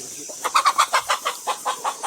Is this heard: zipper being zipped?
no